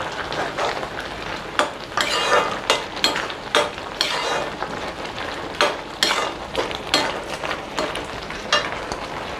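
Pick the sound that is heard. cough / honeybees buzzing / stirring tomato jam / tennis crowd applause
stirring tomato jam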